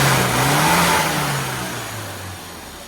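A tuned car engine, freshly adjusted after a non-start fault, revs up and then slowly winds down, loud and close, with no talk over it.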